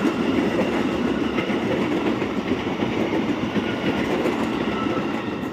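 A train rolls past on an Indonesian railway line, giving a continuous, fairly loud rumble of wheels on track that holds steady and fades only slightly toward the end, with no voices.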